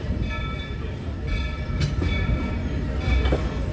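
A Walt Disney World Railroad train at Magic Kingdom rumbles loudly and close as it rolls into Main Street station, wheels grinding and clattering steadily with faint metallic squeals on top.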